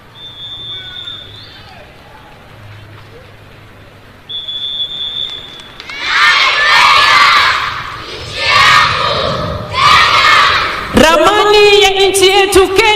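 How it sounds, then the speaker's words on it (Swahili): Crowd at a Mashujaa Day national celebration stadium in Kenya cheering and shouting for children entering the field, with loud bursts of cheers and ululation rising after a quieter start. "Tuwape makofi mazuri watoto wetu."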